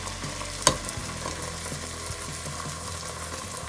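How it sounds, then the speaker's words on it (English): Ginger garlic paste frying with browning onions in a pan for a potato and pea curry, a steady close sizzle with a sharp clack of a utensil near the start, no talking. "I'm going to add my ginger garlic paste."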